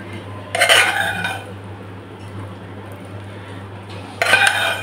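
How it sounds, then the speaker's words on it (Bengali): Cooked helencha greens are scraped from one pot into another: two bursts of metal utensil clanking and scraping against pots, separated by a quieter stretch with a low steady hum. "এবার এইটারে আর একটা হাঁড়িতে এই শাকটা উঠিয়ে নেব।"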